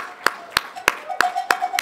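Six evenly spaced sharp claps ring out close and bright, with a sustained metallic tone underneath, sounding at a tech lightning-talk event.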